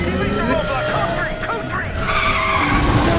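Tires skid and squeal as a car brakes hard while racing in Need for Speed The Run, a loud sustained screech over engine roar, with someone talking over it.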